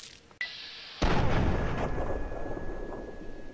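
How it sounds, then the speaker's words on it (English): Two gunshots in Fallout 3 strike the ground: a short sharp crack, then a louder booming blast that leaves a long ringing tail, with no talk. "I shot the ground twice"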